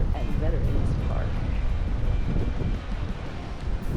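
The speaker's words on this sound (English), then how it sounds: "it's really windy" Strong wind sweeps across a lake shore at a park, a continuous loud rumbling rush buffeting the microphone for the whole stretch.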